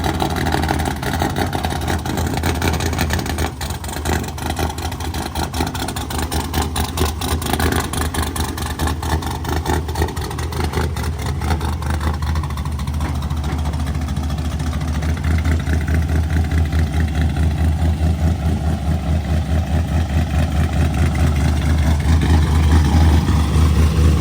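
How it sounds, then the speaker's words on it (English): A cammed LS V8 engine in a 4x4 Silverado with a hard two years of use runs steadily at close range, a continuous loud rumble with a choppy idle pulse and no talking. "Last time this engine's going to be running, she lived a hard 2 years."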